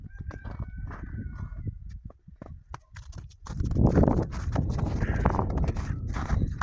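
Chickens on a farm on a winter morning give short clucking calls in the first seconds, followed by louder rustling and hoof-like clip-clop steps from nearby farm animals.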